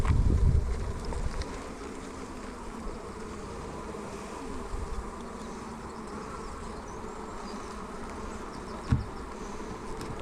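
Honeybees fan at a farm beehive that may be queenless, producing a continuous, close droning buzz with no talking.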